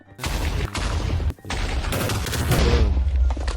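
TNT blocks detonating in Minecraft while flattening terrain, a rapid volley of loud overlapping booming blasts that fill the whole stretch, close and dense, with a brief gap before a deeper rumbling run of explosions.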